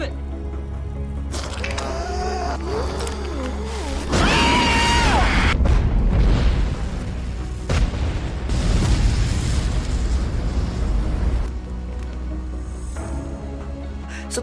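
An explosion in a zombie film set during a flight bursts into a loud roaring rumble midway, with dramatic music and people talking over it before and after.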